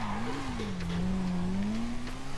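A motorcycle engine in GTA Online's Bikers DLC revs and holds a steady drone, its pitch rising and dipping gently over a couple of seconds, loud and continuous with no talk.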